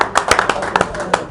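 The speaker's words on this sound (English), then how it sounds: "Give another round of applause for Steve and Chip" A small audience claps at a live sports talk event in a bar, a handful of sharp, close claps in an uneven rhythm over about a second, with talking underneath.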